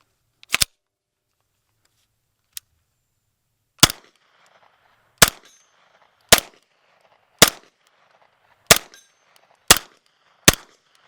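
A SP9A1 Stribog 9mm fires 158-grain subsonic Fiocchi rounds with an Obsidian 9 suppressor, loud sharp single shots spaced a second or more apart, each with a short echoing tail, after an initial pair of reports.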